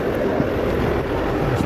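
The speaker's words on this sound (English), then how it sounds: "It's windy as well." Strong wind gusting outdoors during blizzard-like snowfall, a steady, loud roar of buffeting wind noise filling the clip without pause, no voices.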